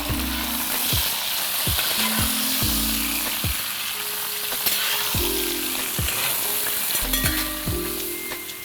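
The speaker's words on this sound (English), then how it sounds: "And I'm going to saute the meat for 2 to 3 minutes." Mutton pieces sautéing in a pan after golden onions, loud continuous sizzling broken by repeated stirring scrapes every second or so, with no talking.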